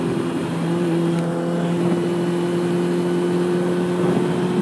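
Motorcycle engine running steadily while riding, a close, continuous drone with a strong low hum that holds level throughout without revving, alone.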